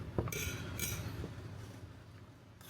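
Macaroni salad stirred with a utensil in a bowl, giving a few sharp clinks and scrapes near the start, then softer mixing noise that fades away.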